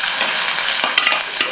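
Chopped ingredients are tipped into a smoking-hot pan of oil and fry with a loud, steady sizzle. Occasional stirring scrapes sound through it, and there is no talk.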